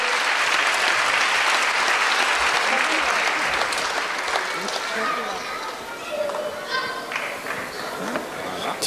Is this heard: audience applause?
yes